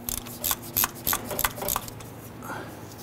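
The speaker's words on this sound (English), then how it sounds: "So we're just gonna loosen these up with our ratchet just a little bit further." A ratchet loosens bolts on a 1994–2004 Ford Mustang during rear axle work, giving a few short, sharp metallic clicks in quick bursts, close and fairly loud over a low background hum.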